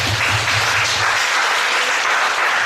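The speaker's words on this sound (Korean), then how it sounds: "박수하겠습니다." A church congregation at a Friday night prayer service breaks into loud, sustained applause, a dense and even roar of many hands clapping that fills the room without any speech.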